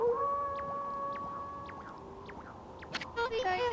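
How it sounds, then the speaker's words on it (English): A wolf howl from the video game Okami: long tonal wailing calls rising and falling over a soft ambient backdrop, with several sustained pitched notes and a brighter burst near the end, no speech. "That was Kemu's howl."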